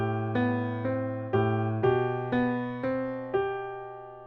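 Piano playing a song with both hands, a sustained low left-hand note under steady repeated right-hand chords struck roughly every half second, close and clear with no talk.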